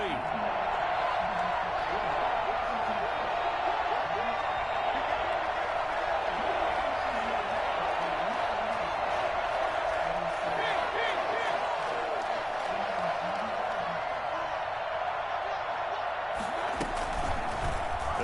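Steady stadium crowd roar from a simulated American football video game, a continuous dense wash of noise that persists throughout without breaks, mixed under a play-by-play commentator's voice.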